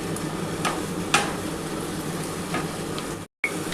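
Onion fries in a pan with a steady, close sizzle. A couple of sharp knocks from stirring stand out, and there is a short silent gap near the end.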